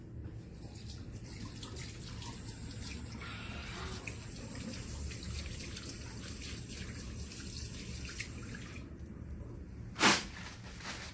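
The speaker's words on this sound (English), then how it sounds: "I'm gonna wash my hands." Hands are washed under a running tap in a clinical care setting, a steady broadband rush of water flowing throughout, with a brief louder splash or clunk near the end.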